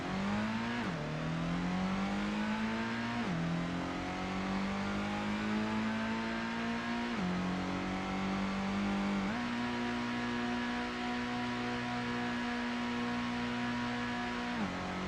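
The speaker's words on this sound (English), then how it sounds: "That's some pure and good engine sound." A race car engine in the video game Gran Turismo revs continuously, climbing in pitch, dropping at each gear shift, then climbing again, loud and steady with no other sounds.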